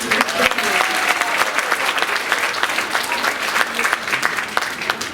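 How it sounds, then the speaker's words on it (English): A crowd at an oratorical contest applauds a speaker, steady dense clapping from many hands filling the whole stretch at an even level. "Another round of applause"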